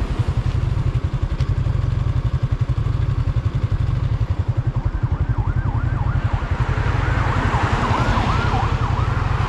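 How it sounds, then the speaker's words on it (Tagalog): A loud engine rumbles steadily up close while an ambulance siren wails in partway through, its rising and falling tone growing more prominent. "Yung ambulansya pala yun"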